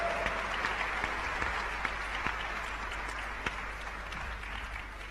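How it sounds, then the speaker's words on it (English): An audience claps to welcome a speaker at a public talk, soft, steady applause heard at a distance with a few sharper individual claps standing out, continuing throughout. "Ladies and gentlemen, please welcome her with a warm round of applause."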